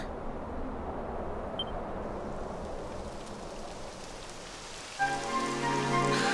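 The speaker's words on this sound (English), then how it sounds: "It would have to go and start raining, wouldn't it?" Steady hiss of rain falling in the video game Dragon Quest XI S, a dense even wash of drops, with soft game music entering near the end.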